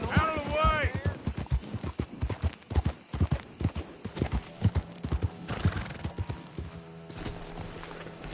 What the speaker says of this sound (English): That's one good-looking horse.